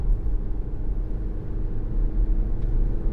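A 2015 Audi Q5 2.0 TDI S line Plus quattro diesel SUV cornering through successive bends, heard from inside as a steady low engine and road rumble with no voices.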